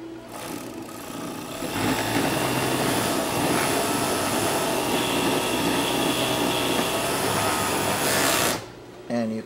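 An overlock serger sews a 4-thread double sample. A loud, steady mechanical whir starts after a moment of quiet, runs evenly for several seconds, then stops abruptly, leaving a short tail of room sound.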